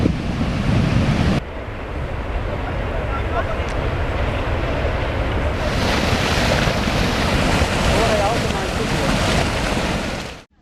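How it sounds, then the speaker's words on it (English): Powerful debris flow surging down a river after rocks crashed into a glacial lake, a continuous loud broadband roar and rush of churning water and debris, steady throughout with a brief lull early on before swelling back. "The rocks crashed into a glacial lake, triggering a powerful debris flow, the effects of which we're witnessing now"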